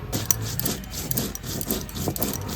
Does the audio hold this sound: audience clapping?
no